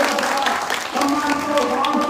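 Audience applause at a Bangladeshi entrepreneurship event, a steady wash of clapping that holds for about two seconds, with a voice or tonal sound running over it.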